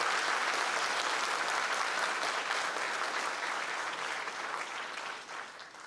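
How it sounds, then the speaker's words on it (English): An awards-ceremony crowd gives a long round of applause for young student athletes, thick steady clapping that stays full before tapering slightly near the end. "Let's have another round of applause for all these great young athletes."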